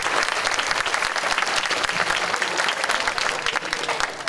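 Loud, dense applause from a theatre audience honouring parents before a school production of The Wizard of Oz, continuous clapping filling the room and swelling unevenly throughout.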